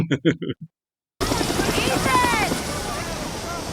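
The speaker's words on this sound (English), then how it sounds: "Helicopters suddenly appearing in the sky make people very nervous." A helicopter suddenly appears overhead, its loud, steady rotor chop and whine starting abruptly after a brief burst of talk and holding to the end.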